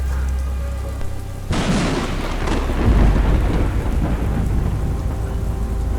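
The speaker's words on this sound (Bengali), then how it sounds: "বাইরে মুষলধারে বৃষ্টি আর বিদ্যুৎ চমকাচ্ছে।" A low droning tone cuts off into a sudden crash of thunder, then heavy rain pours down steadily with deep rumbling underneath, a Kalbaishakhi nor'wester storm at night.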